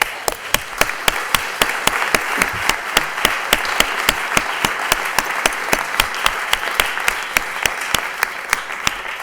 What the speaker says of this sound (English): Round of applause for those that work.